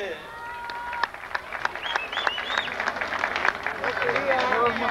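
A rodeo crowd at a jaripeo in Río Verde claps and cheers in steady applause, mixed with crowd babble and a voice, swelling slightly toward the end.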